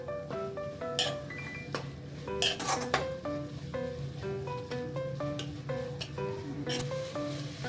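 Prawn fry and chilli powder are mixed in a metal pan. A spoon clinks and scrapes against the pan in a busy, irregular rhythm over a light sizzle, with a few sharper knocks and no speech.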